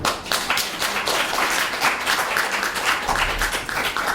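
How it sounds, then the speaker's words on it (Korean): An audience applauds at a Korean talk show event, dense continuous clapping held at a steady level from start to finish, no voices over it. "이런 분들에게 박수를 보내야 됩니다"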